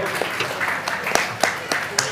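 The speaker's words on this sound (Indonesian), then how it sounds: "Oke, tepuk tangan untuk Ibu Lulu." An audience at an Indonesian question-and-answer session claps, a few distinct sharp claps standing out from a sparse, fairly near smattering of applause, with speech-like sound running underneath.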